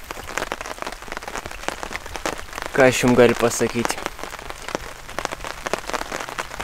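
Rain falling steadily on an outdoor fishing spot, a continuous patter of drops with a brief burst of louder tapping midway, while someone speaks over it.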